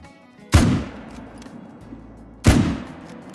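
Two loud, sharp rifle shots ring out about two seconds apart in a hunting video game, each followed by a decaying, echoing tail as the player fires at a mule deer.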